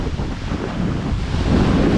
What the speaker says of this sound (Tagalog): Tingnan niyo naman kung gaano kalalaki yung mga alon dito.